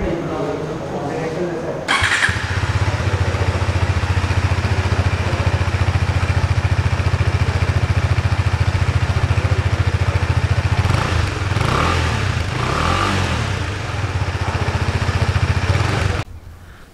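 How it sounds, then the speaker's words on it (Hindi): A BS6 KTM Duke 250 motorcycle starts up and settles into a loud, throbbing exhaust idle with a few throttle blips, close by, before cutting off abruptly. "तो इसका एग्जॉस्ट नोट आपको सुना देता हूँ"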